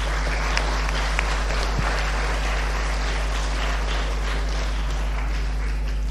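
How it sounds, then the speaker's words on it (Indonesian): Audience applause for a doctor being introduced at an Indonesian talk event, a steady dense wash of clapping sustained for the full stretch with a constant low hum underneath and no talk over it. "Tepuk tangan juga untuk Dr."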